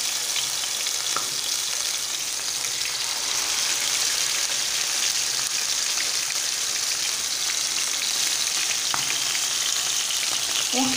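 Chicken meatballs frying in oil, a steady close sizzle and crackle running continuously throughout, with occasional small pops and no talk.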